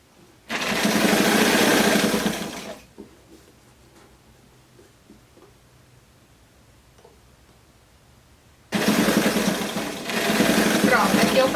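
A sewing machine stitches bias binding onto a blouse in two loud, steady bursts of running, separated by a long quiet stretch with faint handling noise.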